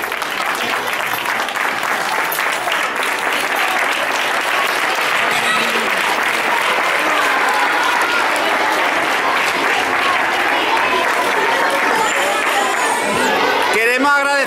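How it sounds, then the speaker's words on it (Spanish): A school audience at a primary school Christmas awards event gives a strong, sustained round of applause, dense and loud throughout, with some crowd noise and voices mixed into the clapping. "le vamos a dar un fuerte aplauso"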